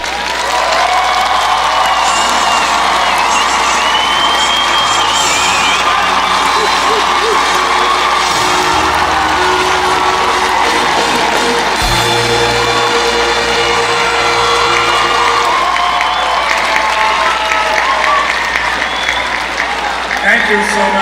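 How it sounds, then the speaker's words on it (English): Graduates receive sustained loud applause and cheering from a large crowd at a commencement service, a dense continuous roar of clapping with scattered whoops and voices throughout. "I ask for all our graduates today a rousing round of applause."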